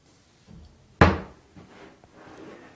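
Cabinet door with European hinges being moved during hinge adjustment, one sharp close knock followed by faint rustling handling noises in a quiet room.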